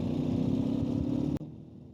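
A Ural motorcycle engine runs steadily while heading downhill toward traffic lights, a continuous mid-pitched drone that cuts off abruptly partway through and drops to a quieter hum.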